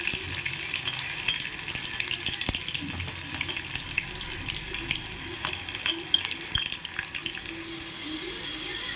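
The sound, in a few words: tempering spices sizzling in oil for raw mango pulusu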